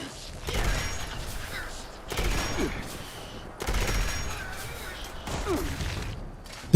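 Gunfire from a weapon in the video game Fallout 76, with several short bursts of rapid shots, mechanical clacks and ratcheting between them, loud and close.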